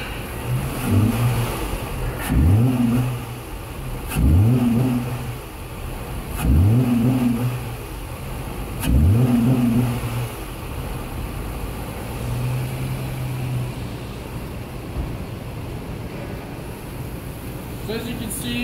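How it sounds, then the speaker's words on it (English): A car engine is snapped to wide open throttle repeatedly, giving four or five sharp rising revs spaced a couple of seconds apart, each dropping back to a steady idle, loud and close, with a final longer idle stretch. "I'm going to get in the car and I'm going to snap throttle, which means you're just going to get up to wide open throttle, on and off"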